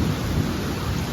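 A thunderstorm with lightning pours heavy rain in a steady, loud, close hiss, with a low thunder rumble underneath and no voices.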